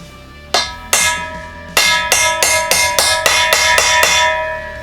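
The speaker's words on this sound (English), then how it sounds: "we'll pound it back the other way so it bottoms out on that clip" Repeated hammer blows knocking a Jeep J10 tail light down onto its mounting clip: about a dozen sharp metallic strikes with ringing overtones, a few spaced apart and then a quicker steady run, close and loud with no talking.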